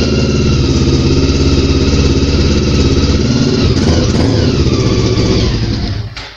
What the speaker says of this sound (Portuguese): Não acelera que vai travar o motor.